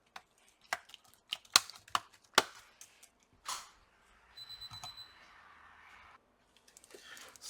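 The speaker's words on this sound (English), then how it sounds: "Place the keyboard, the sides first." A keyboard is pressed back into an HP Pavilion G6 laptop during a fan replacement, giving a run of sharp, close plastic clicks and snaps, then a stretch of soft scraping and handling, ending in a few light taps.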